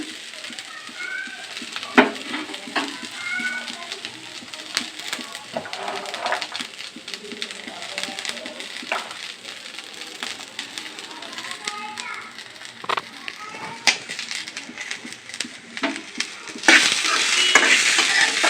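Boiled sweet corn kernels fry in a pan, with a long run of crackling pops and scattered spatula clicks. Voices sound faintly in the background, and the sizzle swells into a louder hiss near the end.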